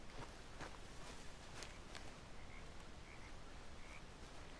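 Frogs croak faintly in Red Dead Redemption 2 under a steady wash of ambient noise, with a few soft footstep-like taps near the start and no talking.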